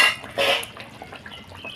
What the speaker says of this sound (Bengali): এবারে ঝোলের মধ্যে আমি ভেজে রাখা মাছগুলো দিয়ে দেবো।